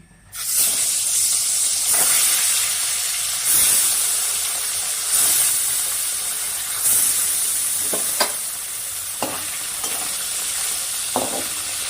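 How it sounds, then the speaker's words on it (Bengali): Fish frying in hot mustard oil in a wok: a loud, continuous hiss and sizzle throughout, broken by several short scraping stirs, with no talking. "এবার তেলটা আমার গরম হয়ে গেছে এবার মাছগুলো সব ভেজে নিব"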